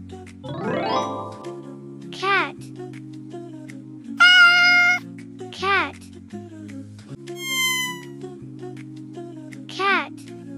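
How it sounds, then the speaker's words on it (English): A cat meows several times, short rising-and-falling calls spaced through the clip, between brief chimes and tinkly sound effects over a steady low musical bed. "Cat."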